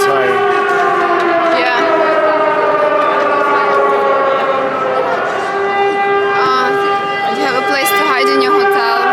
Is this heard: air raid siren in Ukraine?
yes